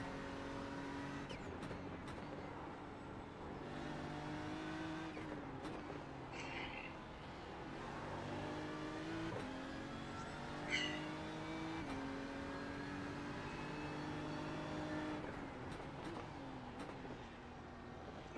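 Race car engine in a Suzuka 10-hour sim racing game, with a Porsche close behind: a steady, loud motor drone that rises and falls through gear changes and throttle sweeps, with no talk.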